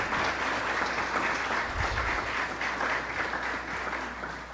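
An audience at a school event in a preparatory school hall breaks into steady applause, a dense, even wash of clapping from many hands that continues throughout with no voices over it.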